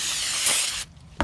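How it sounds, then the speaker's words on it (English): Brake cleaner from an aerosol can is sprayed onto the rear brake rotors of a Mercedes-Benz S550, a loud, close, continuous hiss lasting almost a second before it cuts off abruptly. "make sure that you clean these off first with some brake clean"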